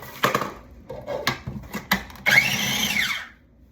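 A kitchen food processor chopping bread gives several short pulses, then runs in a sustained high whirring burst before stopping.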